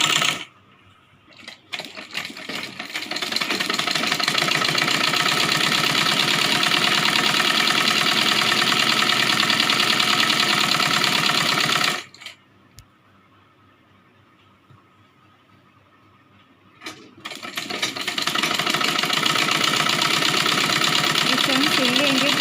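A sewing machine runs steadily while stitching a strip onto a Rajputi kanchali blouse, a loud continuous mechanical whir that stops for a few seconds and then starts up again.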